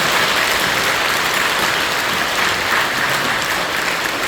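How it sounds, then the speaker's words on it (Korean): A church congregation applauds warmly in a steady, dense wash of clapping that holds level for the whole stretch, close and loud with no voices breaking through. "우리 환영하는 마음으로 뜨겁게 박수 한번 해주시기"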